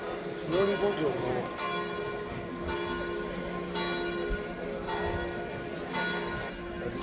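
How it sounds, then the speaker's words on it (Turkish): A bell of a 500-year-old church in Venice tolls repeatedly at a steady pace, ringing out over a busy ambient background with faint voices. "kilisenin de çan sesini duyuyoruz bu arada"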